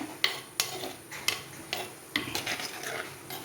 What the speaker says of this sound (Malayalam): നന്നായിട്ടൊന്ന് ഇളക്കി യോജിപ്പിച്ചു